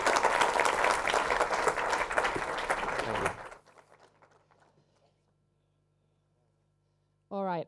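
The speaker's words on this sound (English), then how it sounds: "can everyone please give Rowan a round of applause?" A crowd applauds loudly for a few seconds, the clapping fades into near silence, and a voice briefly speaks at the very end.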